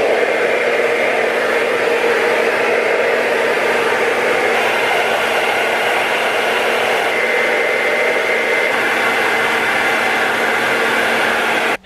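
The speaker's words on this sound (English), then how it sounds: "now I'm going to diffuse my hair" A hair dryer fitted with a diffuser runs steadily on curly, heat-damaged hair, a loud, continuous close-up whooshing roar that holds at an even level throughout with no talking.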